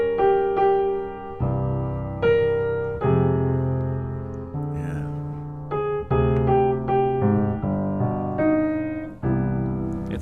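Jazz ensemble plays the melody of a standard over chords, full and continuous with a steady, sustained texture and no talking.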